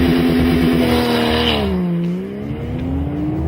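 A 2012 Porsche 911 Carrera with its 3.4-litre engine and sports exhaust sounds loud and close, a strong steady engine drone that sweeps down and back up in pitch as the revs change, with no talk.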